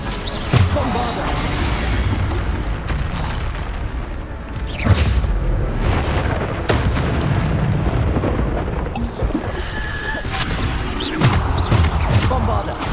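Bombarda explosion spells in the Hogwarts Legacy video game go off repeatedly as deep booming blasts over a continuous loud rumble of battle noise, about six sharp impacts spread across the stretch.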